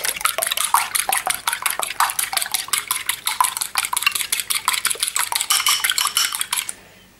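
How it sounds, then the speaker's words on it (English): A fork whisks a beaten egg in a bowl, tapping out quick rhythmic clinks against the sides. The beating runs steadily and close by for several seconds, then stops abruptly near the end. "now I'm just gonna whisk this egg a little bit or beat the egg a little bit"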